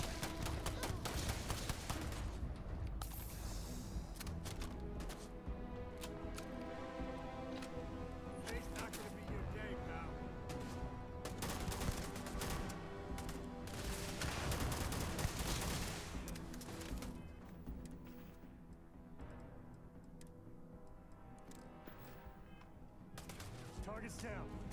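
Rapid gunfire and machine-gun bursts from the Starfield video game, dense volleys crackling almost nonstop and thinning out toward the end, with voices talking over the shooting.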